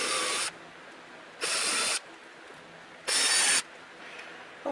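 A power drill bores mounting holes for BMW OEM aero splitters on a BMW i8, three short bursts of whirring separated by quiet pauses, close and alone.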